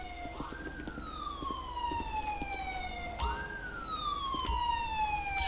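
Ambulance siren in the GTA 5 video game, heard as repeated rising and falling wails at moderate distance over a steady low rumble of game traffic, with no talking.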